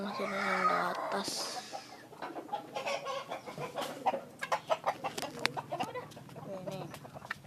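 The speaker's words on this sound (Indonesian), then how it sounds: "Ini ayam Bangkok." Fighting roosters of the Bangkok breed cluck and call repeatedly at a bird and chicken farm, close and fairly loud, mixed with other birds while people talk nearby.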